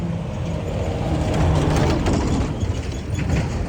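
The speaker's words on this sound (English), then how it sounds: "Got a noisy truck going to go by here, sorry." A loud truck rumbles past on the Boynton Inlet Bridge in Boynton Beach, a steady close roar of engine and tire noise that swells slightly mid-pass over constant traffic and wind.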